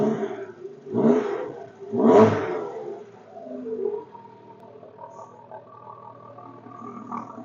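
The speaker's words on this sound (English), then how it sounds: "That exhaust is, yeah, sounds pretty awesome. So, give her a couple of revs." An MG TF sports car engine revved twice through its exhaust, two loud rising-and-falling bursts followed by a softer third blip and a lumpy idle.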